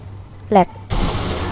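A single sharp gunshot from the video game Sniper Elite V2 bursts out loudly and rings into a sustained rumbling tail, preceded by a brief voice.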